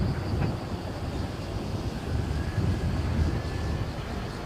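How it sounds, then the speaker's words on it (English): Chinook helicopter passes with a broad, steady low rumble and windy roar at moderate distance, constant throughout without clear rotor beats, with no talk. "But here's a Chinook for our good mate Raiders."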